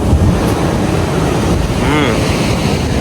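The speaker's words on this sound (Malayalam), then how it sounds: "നല്ല തിരമാല ഉണ്ട് രാവിലെയാണ് കൂടുതൽ തിരമാല" Sea waves break on a beach in the morning, a loud continuous roar of surf with wind buffeting the microphone throughout and a faint voice briefly audible.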